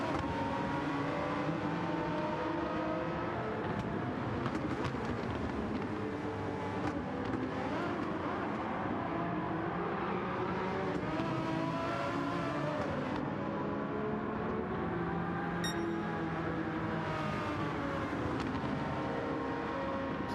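Group C race cars, including a Porsche 962C, racing in the Gran Turismo 7 video game, with a continuous loud engine drone whose pitch rises and falls through gear changes and revs, several cars close together.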